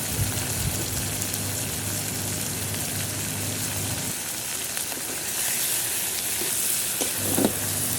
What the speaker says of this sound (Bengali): মাংসটা আমি খুব ভালো করে কষিয়ে নেব।